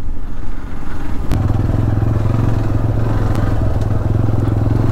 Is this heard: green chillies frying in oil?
no